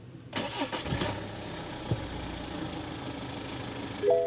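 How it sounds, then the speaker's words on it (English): A BMW 520d diesel car engine cranks and catches with a short rough burst, then settles into a low, steady idle. "Foot on the brake, start the engine"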